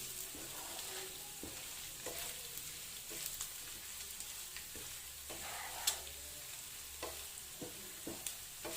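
Masala sizzling in a pan over a medium flame while being stirred, with a continuous frying hiss broken by repeated scrapes and clinks of the spoon against the pan, close and moderately quiet.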